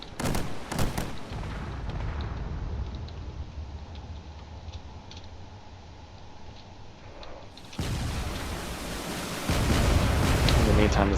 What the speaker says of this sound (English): this battleship here is going to fire away all of its cannons